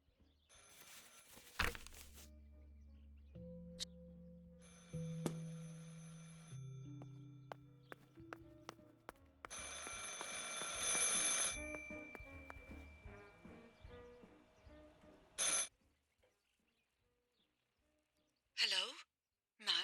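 An old telephone rings repeatedly in the video game Martha Is Dead, with bell bursts at intervals amid game sound effects and musical tones, no talk.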